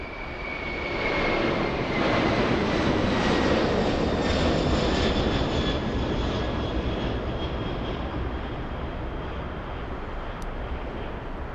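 A Boeing 747 jet, an Atlas-operated cargo aircraft, at LAX airport gives a loud, sustained engine roar with a whining tone that slowly shifts as it passes, with no talking.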